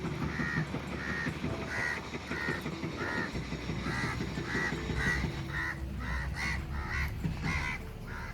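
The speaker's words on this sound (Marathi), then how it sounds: "हे बघा किती कावळे आहेत" A large flock of crows caws repeatedly near a lighthouse by a coastal bridge, the harsh calls overlapping in an irregular, continuous chorus against steady outdoor background noise.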